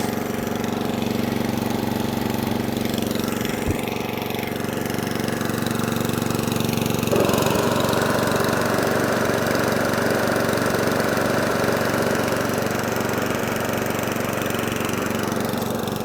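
An Atco Balmoral cylinder lawnmower engine runs steadily on half choke, a loud continuous drone that holds throughout and shifts to a rougher, busier tone partway through, with no talking.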